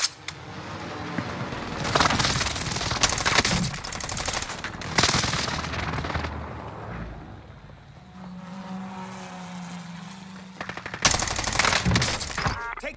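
Bursts of automatic gunfire in the video game Warzone come in several loud, rapid volleys separated by quieter stretches. A low humming background fills the gaps, and a final heavy burst arrives near the end.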